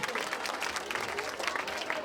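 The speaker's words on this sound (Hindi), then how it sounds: "एक बार जोरदार ताली बजाइए आपको।" Loud applause from an audience at a 15 August Independence Day dance event, a dense sustained clapping crowd filling the whole moment with a voice faintly audible underneath.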